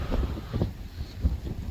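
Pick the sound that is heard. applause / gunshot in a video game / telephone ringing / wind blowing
wind blowing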